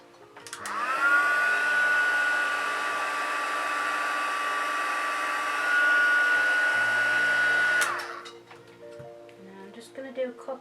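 A hair dryer style heat tool runs steadily for about seven seconds while heat-setting creases on a toe-area piece, with a loud continuous whir that has a slight pitch shift midway before cutting off, then quiet handling noises.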